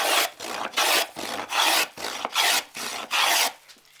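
Scrub plane pushed forward along straight-grained wood, taking shavings in seven steady rasping strokes about half a second apart, close and loud with no voices.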